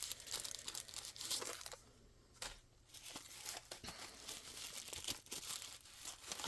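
CD envelopes being handled on a craft desk, close soft crinkling and rustling of paper with brief crisp rattles, fairly quiet and continuous.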